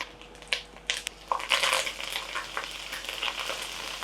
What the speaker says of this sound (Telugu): ఒక పది పన్నెండు వెల్లుల్లి వేసేస్తున్నా పోపులో మళ్ళీ ఒక పది పదిహేను జీడిపప్పు వేసేస్తున్నాం